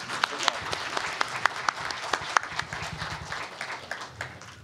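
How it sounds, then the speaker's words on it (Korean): An audience at a party leadership candidates' debate gives fairly faint applause: distinct individual claps stand out over a soft bed of clapping, with murmuring voices underneath. "좀 양해로 박수를 좀 보내주시죠."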